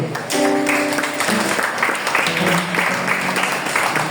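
A church congregation at a French-language worship service applauds the Lord, a loud, steady wash of many hands clapping, with a voice speaking over it at the start.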